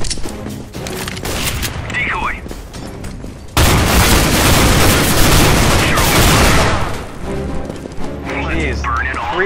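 Loud gunfire in the video game Counter-Strike: Global Offensive erupts as a sustained burst lasting several seconds, with players' voices talking before and after it.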